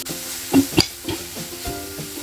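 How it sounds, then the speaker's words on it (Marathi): Onion and curry leaves sauté in a pan, a soft sizzle under a few distinct knocks and scrapes of a spatula against the pan over about two seconds, no speech. "कांदा थोडा परतल्यानंतर इथे कढीपत्ता घालायचा आहे दोन सेकंद परतून घ्यायचं"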